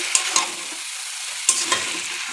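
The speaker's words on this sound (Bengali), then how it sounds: "এখন মেইন ইম্পর্টেন্ট নাড়া দেওয়াটা। তো এখন ভালো মতো আমি নাড়াচাড়া করবো" A spatula stirs noodles with eggs and colourful spices in a hot frying pan, giving a few sharp scraping clatters in two quick bursts over a soft continuous sizzle, close up and with no talking.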